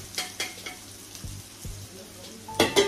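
Paneer coated in flour fries in a pan with a steady sizzle, broken by a few soft stirring scrapes and a louder clatter of utensil against pan near the end.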